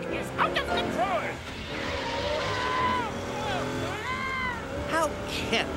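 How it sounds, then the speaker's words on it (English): Busy cartoon soundtrack with a runaway truck in a BusyTown fire scene: engine roar and whooshing movement alongside siren-like rising and falling tones, continuous and fairly loud, with characters talking over it. "That truck is out of control."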